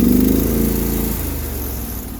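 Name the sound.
Sears loader tractor engine running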